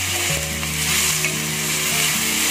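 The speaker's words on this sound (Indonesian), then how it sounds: "Lalu kita masukkan brokolinya setelah dagingnya berubah." Broccoli and beef stir-fry in a pan with a loud, continuous sizzle, with brief stirring clatter near the start.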